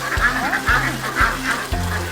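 Pekin ducks on a farm give a run of loud, close, nasal quacks in a quick rhythm, about four or five calls, with water nearby.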